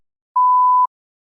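A single clean electronic beep marking the start of TOEFL speaking preparation time, steady mid-pitched tone lasting about half a second, loud and alone against silence.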